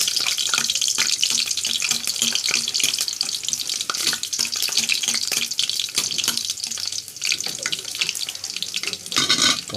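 Chopped garlic sautés for adobo in a hot pan, making a loud, steady hiss and sizzle that runs continuously, with a few small pops and crackles.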